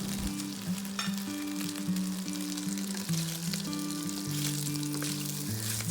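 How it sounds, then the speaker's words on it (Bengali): Chhana (paneer) pieces fry in hot oil in a kadai over high heat, making a steady close sizzle with scattered crackles. A low stepping musical tone runs underneath, and nobody speaks. "গরম তেলে আমরা ছানাগুলোকে ভেজে নিব ভালো করে সবগুলো ছানা দিয়েছি"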